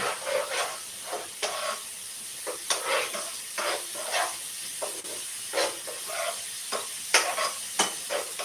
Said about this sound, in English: So you can hear that it's steaming already.